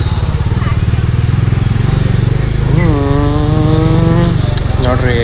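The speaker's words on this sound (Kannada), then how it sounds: "ನೋಡ್ರಿ ಬೀಚ್ ಒಳಗಡೆ ನನ್ನ ಗಾಡಿ ಫಸ್ಟ್ ಟೈಮ್. ನನ್ನ ಗಾಡಿ ಒಳಗಡೆ ಬೀಚ್ ಒಳಗಡೆ ಎತ್ಕೊಂಬರ್ತೈತೆ." A Bajaj Dominar motorcycle engine throbs nearby as the bike is ridden onto beach sand. The loud, steady beat swells into a rising rev partway through.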